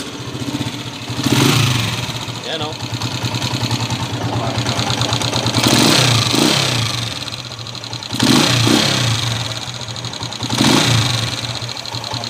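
A TMX155 motorcycle engine runs loudly with a rough, rattling idle, rising in several revving bursts spaced a few seconds apart; a brief voice is heard.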